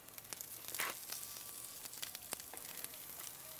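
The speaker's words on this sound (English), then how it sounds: "hearing the sizzle of the barbecue so we know the barbecue's hot enough" Prawn kebabs sizzle on a hot barbecue grill with steady crackling and occasional sharp pops, close and fairly quiet, no voices.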